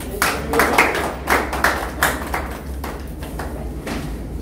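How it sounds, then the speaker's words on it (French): An audience at an entrepreneur training ceremony applauds a speaker, producing steady, dense clapping from many hands throughout the clip, fairly loud and continuous. "Lalo, on l'acclame"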